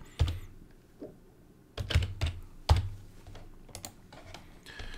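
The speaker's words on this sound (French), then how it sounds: "je vais taper Wallet Phantom" Computer keyboard typing while searching for the Phantom wallet on Google: several separate bursts of clustered keystrokes with short pauses between them, close and clear, with no talking.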